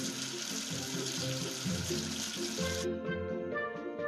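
Water from a tap rinses soap away in a steady, close stream, with bright background music playing throughout and cutting partly out near the end.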